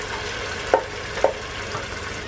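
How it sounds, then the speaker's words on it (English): Tomato sauce frying in a pan, a steady close sizzle with two sharp stirring scrapes, no talking. "We're literally going to fry it for like a minute."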